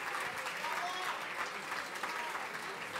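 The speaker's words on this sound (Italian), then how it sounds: "Un grande applauso per tutte loro." An audience at an evening gathering breaks into sustained applause, a dense wash of clapping from a crowd that holds steady and close for the whole stretch.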